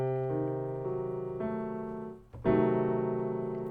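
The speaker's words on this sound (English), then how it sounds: "And then the diminished sounds like this." A diminished seventh chord on a keyboard, built up note by note as an ascending arpeggio, then struck again as a full block chord that rings on, soft and close with no voice over it.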